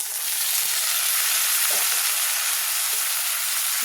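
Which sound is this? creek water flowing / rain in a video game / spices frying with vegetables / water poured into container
spices frying with vegetables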